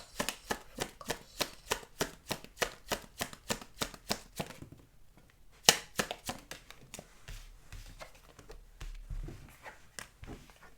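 Tarot cards are handled and drawn, giving a quick rhythmic run of crisp card snaps and taps, a short pause midway, then softer slides and flicks, close and quiet with no talking.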